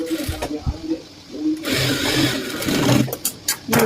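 Home sewing machine stitching cloth in short, close whirring bursts, with a voice talking over and between the runs.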